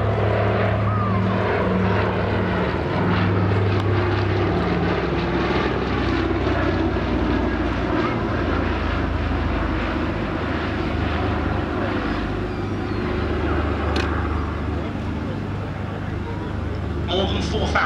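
Consolidated Catalina flying boat engines drone loudly and steadily for the whole stretch, a thick propeller roar close by at an East Kirkby airfield, with a faint voice under the noise.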